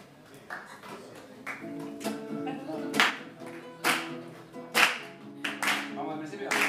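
A group claps hands along to a Spanish-language song, sharp irregular claps rising over the sung melody and accompaniment, some louder and closer than others.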